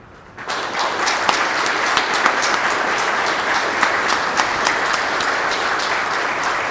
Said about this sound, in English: Will you please join me in a round of applause to say thank you.